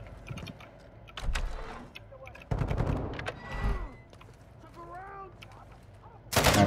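Turret fire in a video game squad shooter, sharp bursts of shots scattered across the moment amid game effects, with voices talking over parts of it and a loud burst at the end.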